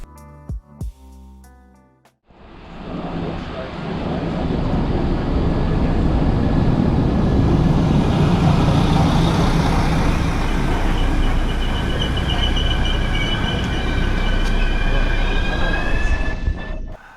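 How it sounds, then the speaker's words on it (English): An Abellio Lint regional train pulls into Erfurt main station, a close, loud rumble of engine and wheels that rises after a short quieter start and holds steady with faint squealing tones near the end, no talk. "let's take a look at our train arriving at the main station of Erfurt"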